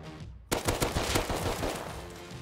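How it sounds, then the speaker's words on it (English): Rapid, loud gunfire erupts in the survival video game Rust after a brief quiet, a dense burst of shots that keeps crackling for the rest of the moment with no talk. "If you hear shots."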